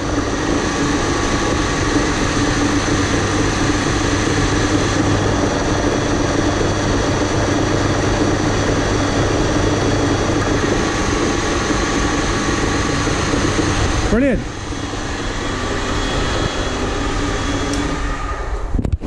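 A Triumph Stag engine runs under load during gearbox and overdrive testing, giving a loud, steady mechanical hum. Around fourteen seconds a brief clunk marks a shift in the sound, and the hum then carries on with no talk.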